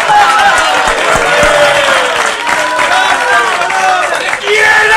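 Audience applause and cheering at a live comedy show, a steady wash of clapping from a crowd filling the room throughout, loud and close, with some voices mixed in.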